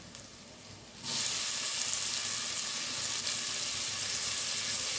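Tomatoes and onions go into a hot pan for millet sambar rice: a quiet second, then a sudden, loud, steady sizzle that holds without a break, close and with no talking.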